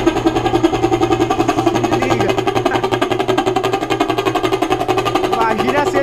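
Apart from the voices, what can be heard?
motorcycle idling with a Brazilian vuvuzela in the exhaust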